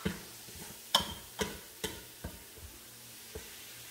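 Ground beef being stirred while sautéing in a Gourmia pressure cooker, faint sizzling under a series of sharp spoon clicks and scrapes against the pot, spaced roughly half a second apart and fading.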